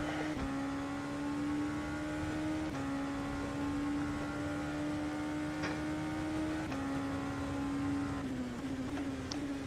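LMP2 prototype race car lapping a wet Silverstone in rFactor 2, its engine a steady loud drone with slight pitch shifts through low-speed corners, continuous and close throughout.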